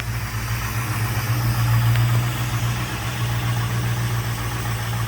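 A Daytona car's engine idles steadily nearby, a low, even rumble with a slight vibration that swells a little partway through and holds constant, with no talking.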